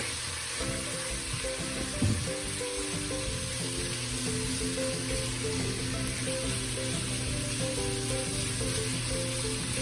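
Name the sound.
shrimp frying in garlic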